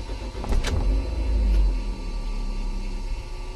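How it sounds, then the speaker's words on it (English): A Vauxhall Zafira dual-fuel LPG car starting in petrol mode: a brief loud cranking whir, then the engine catches and settles into a steady low idle rumble nearby. "So I'll just start the car now."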